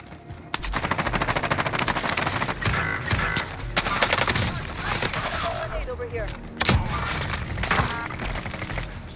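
Sustained automatic gunfire in Call of Duty Warzone Resurgence. Long rapid bursts run almost without a break, with a few heavier bangs and crashes layered in, loud and close, broken by brief pauses.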